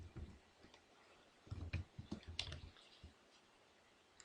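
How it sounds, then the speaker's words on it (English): Computer keyboard typing while entering chamfer dimensions in a CAD drawing, a few quiet scattered key clicks in short bursts with pauses, faint and close. "And I'm going to type in my chamfer dimensions."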